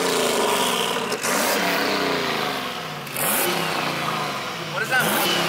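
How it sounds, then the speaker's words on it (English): A turbocharged LS1 V8 with a 76 mm Precision turbo and a 100-shot nitrous kit, fitted in a Chevy Camaro, runs loud and continuous, with its revs dipping and rising. A voice talks over it. "It's a CBM LS1 with a 76 millimeter precision turbo with 100 shot of nitrous."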